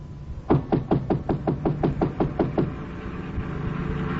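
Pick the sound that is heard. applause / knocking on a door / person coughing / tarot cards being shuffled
knocking on a door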